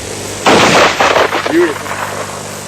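A loud, sharp gunshot fired at a lion on safari, a single heavy blast ringing out into open air with a lingering rumble after it.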